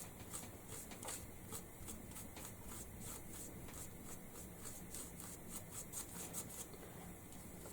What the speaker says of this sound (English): I'm just quickly just dry brushing it on